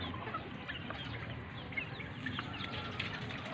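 Chickens cluck softly and intermittently against a steady, faint outdoor background hiss.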